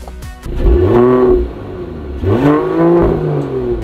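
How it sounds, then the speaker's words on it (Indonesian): A Mercedes-AMG GT 53 engine starts with the brake held, giving two loud revving surges that rise and settle into a steady idle, heard up close with no talking. "Dan kalau kita mau start mobil ini, ada dua cara. Start yang biasa seperti ini, kita injek remnya."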